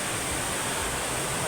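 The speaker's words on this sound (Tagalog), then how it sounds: "At saka itong tubig dito sa fountain ay nakadagdag ng lamig." Water splashing steadily from a fountain in an outdoor shopping area, a continuous broadband hiss and patter that stays even and fairly close, with no voices.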